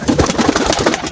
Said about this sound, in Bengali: দেখাই এই সিজনে আমার প্রথম কিছু বাচ্চা কবুতর